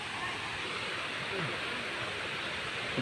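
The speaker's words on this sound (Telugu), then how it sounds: "Kothapalli water falls." Kottapalli waterfall set among large hills gives a steady, dense rush of falling water that holds at an even level throughout without pause.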